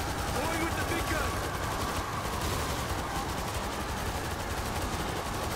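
Sustained, loud gunfire from a big gun in World War Z, a dense unbroken roar of rapid shots with a voice talking beneath.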